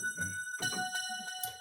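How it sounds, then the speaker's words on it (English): A Sweet Bells patch from Logic Pro X's stock instruments plays a few soft chiming bell notes with ringing, sustained tones, gentle and fairly quiet. "So sweet bell is a Logic stock plugin."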